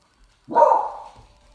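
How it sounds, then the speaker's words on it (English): A dog barks once from another room, a single muffled, mid-pitched woof that swells quickly and trails off over about half a second, with quiet around it. "And that's my dog barking."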